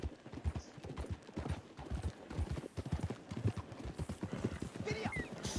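Horse hooves gallop in a quick, even clip-clop rhythm in the Red Dead Redemption 2 video game, fairly faint, with a whinny and some talking over it.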